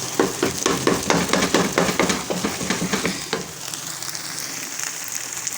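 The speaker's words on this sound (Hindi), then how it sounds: "इसको जल्दी जल्दी मुसलसल हिलाना होता है ताकि अंडे सही तरीके से इसके अंदर मिक्स हो जाए" Bread halwa mixed with eggs is stirred rapidly in a pan, giving a close, rhythmic scraping over a frying sizzle that then eases into a softer, steady hiss.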